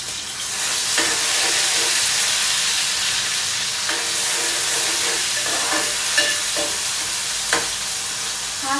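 Tomatoes hit a hot pan of coriander, garlic and ginger masala over low gas, giving a loud continuous sizzle with occasional stirring scrapes and small pops, close and with no talk.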